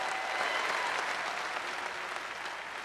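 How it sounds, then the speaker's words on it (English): A large audience at a big conference event in Miami claps in a steady, sustained wash of applause for a few seconds, with no talking over it. "let's give him a big round of applause"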